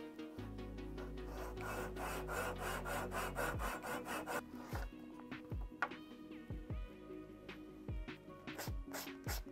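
A handsaw cuts through a PVC blank for a copied Jackall Tiny Magallon fishing lure, fast rhythmic rasping strokes up close that slow into spaced, separate pulls toward the end.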